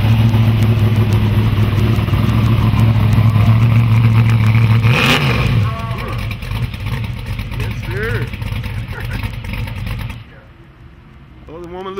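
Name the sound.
street truck engine running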